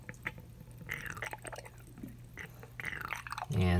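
A leaking reverse osmosis faucet at a kitchen sink gives faint, irregular slurping and sucking gurgles with small drips, fairly close and quiet, ending in a louder burst of rushing flow.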